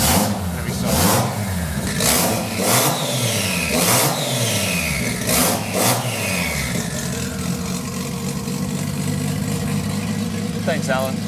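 Nissan GT-R engine fitted in a Datsun 240Z, revving repeatedly in rising and falling bursts over a steady idle, loud and close, with voices talking over it.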